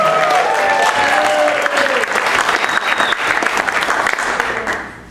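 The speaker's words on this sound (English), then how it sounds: "Let's have another round of applause for Dr." An audience gives a round of applause for Dr. Lucas Mandible, full steady clapping that starts over a few fading voices and tapers off at the end.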